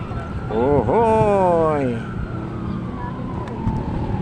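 An ambulance siren near a ferry crossing, rising and falling loudly in a couple of quick wails before fading, over a steady engine and crowd hum.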